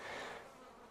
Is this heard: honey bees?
yes